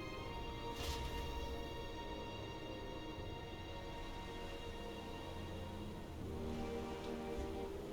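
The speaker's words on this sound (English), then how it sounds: "It's raining. It is raining." Steady rain falls in the video game Metaphor ReFantazio, a continuous even hiss that holds at moderate level throughout with no voices over it.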